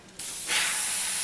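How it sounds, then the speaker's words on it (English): An airbrush sprays paint with a steady close hiss that starts abruptly after a short quiet moment, then grows louder and brighter and holds on without any talk. "airbrush a spray out if it's not giving you good paint"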